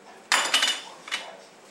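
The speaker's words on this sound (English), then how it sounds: "So now, take the lids off." Lids lifted off hot glass canning jars of green tomato relish: a few sharp metallic clinks and scrapes, close and clear, with a short pause before a final softer clink.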